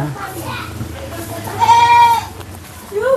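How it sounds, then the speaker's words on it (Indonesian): A goat bleats at a village house, a harmonic cry rising clearly in the middle and again briefly at the end, with people talking before it over a low steady hum. "Oh, kok ada kambing kayaknya ini."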